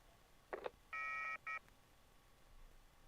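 A telephone in the video game YIIK gives a few quick dialing tones and then two electronic beeps, one long and one short, thin and faint against a quiet background.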